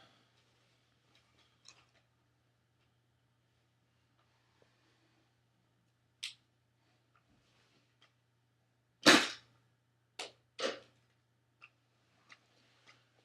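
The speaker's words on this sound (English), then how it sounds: "I'm going to fire the less massive round at a very similar target and see what happens." A gunshot firing a less massive round at a target outdoors: one loud sharp crack followed by several quieter snaps and ticks spaced over a low steady hum.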